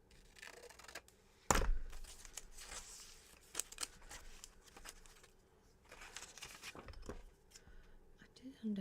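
Paper pieces are trimmed with soft snips and crisp rustles close by. A sharp handling knock comes early, followed by scattered cutting sounds and quiet, murmured talk.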